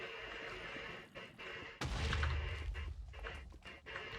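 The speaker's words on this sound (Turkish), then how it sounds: "şu çiçeklere dikkat et patlıyor bunlar" A single loud booming explosion from a blast-triggering flower in Minecraft with the Hexxit modpack is followed by a rumbling decay, set against steady background game sound.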